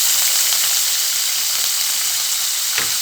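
Chopped small shallots sizzle steadily in hot oil in a pan for karakuzhambu, a continuous close frying hiss with no talk over it.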